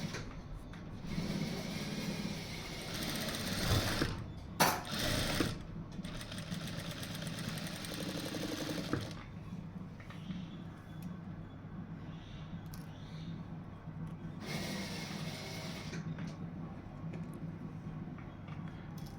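A sewing machine stitches fabric piping in bursts of rapid mechanical whirring, with short pauses and handling noises between runs, quiet and close.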